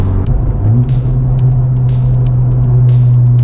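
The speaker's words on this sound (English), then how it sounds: "I wanted to go ahead and do a third gear pull." Honda Civic Type R in a third gear pull, heard from inside the car as a loud, steady low engine drone and road rumble that rises slightly in pitch.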